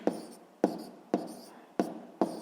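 A pen or chalk writes down an answer in short, repeated strokes, five crisp scratchy taps spaced about half a second apart, quiet and close.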